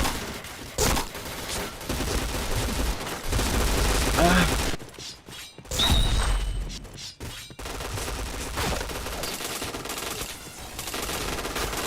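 Rapid automatic gunfire bursts through a multiplayer shooter match, loud volleys and single shots with brief pauses between them, while players talk over the action.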